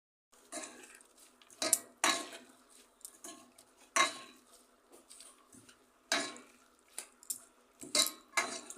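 Salted radish greens are rubbed and washed in a bowl, giving irregular close squelches, knocks and clinks against the bowl between quieter pauses.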